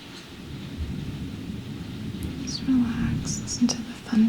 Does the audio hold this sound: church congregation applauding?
no